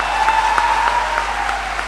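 An audience at an Urdu couplet-contest event in Delhi applauds steadily, a dense continuous patter of many hands clapping at full loudness throughout, with no voices over it.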